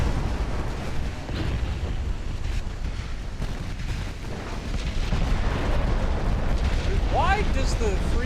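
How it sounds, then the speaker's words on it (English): A ship's ammunition detonation in the naval combat game Ultimate Admiral Dreadnoughts: a loud, sustained rumbling blast roar with wind-like noise that fills the whole stretch, steady and heavy throughout. "Suffer an ammo detonation."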